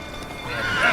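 Roach, the horse in Witcher 3, lets out a short, close neigh that swells in loudness over under a second, with no voices.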